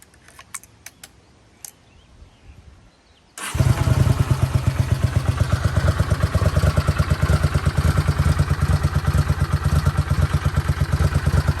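A Honda GL500 motorcycle cold-starting after some key and switch clicks, then a steady, loud, slightly uneven idle with a rapid chugging pulse, close by.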